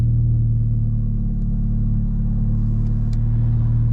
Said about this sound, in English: I'm gonna wait for this car to pass.